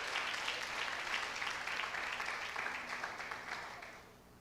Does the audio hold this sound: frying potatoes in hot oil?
no